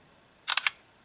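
Three sharp clicks of an LG G2 phone's camera shutter, released by a spoken command, sound in a fast cluster near the microphone with near silence before and after.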